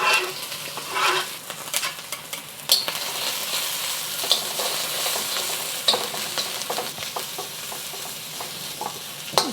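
Shallots, garlic, chilies and shrimp stir-fried in a pan for Malaysian spicy green beans: steady loud sizzling with repeated scraping stirs and occasional utensil clinks, no talking.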